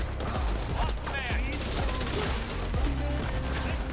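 Video game gunfire during a shooter livestream, several sharp shots in quick bursts over game sounds, with someone talking at times.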